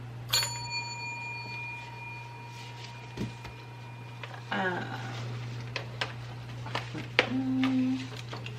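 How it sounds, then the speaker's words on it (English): A small desk bell dings once with a bright, long ringing decay over a steady low hum, followed later by quieter taps and clicks from handling. "So we are going to ding the bell."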